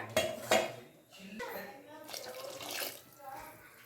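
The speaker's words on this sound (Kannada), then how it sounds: "ಒಂದ್ ಗ್ಲಾಸ್ ನೀರು ಹಾಕಿ ಇದ್ರಲ್ಲಿ ಹಾಕೊಂಡ್ಬಿಟ್ಟೆ" A glass of water is poured into a pot while cooking green tomato bath, with brief splashing among close clinks of pots and utensils and someone talking over it.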